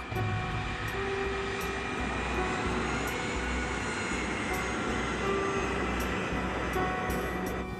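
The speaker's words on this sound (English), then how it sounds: "The KLM plane is groping its way through fog." A loud, steady roar of a jet airliner's engines fills the scene, a broad continuous rumble with faint rhythmic thumps beneath.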